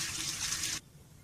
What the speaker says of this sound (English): So most of the debris is going to be flushed down the drain right now